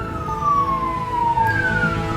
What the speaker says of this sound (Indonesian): Ternyata ambulan.